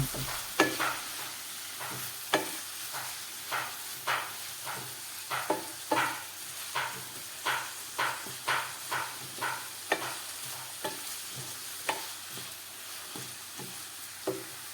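Chopped garlic and ginger sautéing in a pan, a soft, low-level sizzle punctuated by a steady rhythm of spatula scrapes, roughly two per second, close by with no voices.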